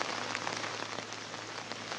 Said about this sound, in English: Willis Parmeshwar, the heavy downpour has just begun here in Nashik